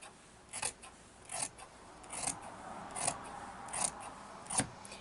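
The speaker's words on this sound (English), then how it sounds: "and then cut it with your scissors." Scissors cut through flannel fabric in a series of about seven crisp, evenly spaced snips, close and clear with no talking.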